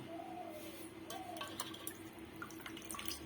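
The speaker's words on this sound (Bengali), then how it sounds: "তো এখন এটা জল থেকে ভালো করে চিপে চিপে উঠিয়ে নিতে হবে," Soaked mango pieces are squeezed by hand so water drips and trickles back into a bowl, soft wet splashes and drips close by and fairly quiet, with no talking.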